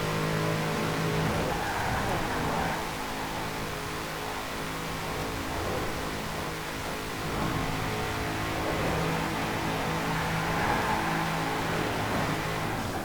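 A 1996 Formula Drift Nissan 240SX in Forza Horizon 4 holds a steady, loud engine drone at top speed, a dense continuous roar with no breaks and no voices.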